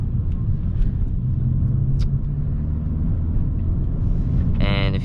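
A 2020 manual-transmission car driven on the road, its engine a steady low rumble filling the cabin, with a brief brighter mechanical whine near the end.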